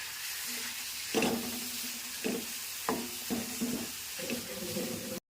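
Clams and chopped tomato roasting in a pan sizzle softly while a utensil stirs them in several distinct scraping strokes, then the sound cuts off abruptly.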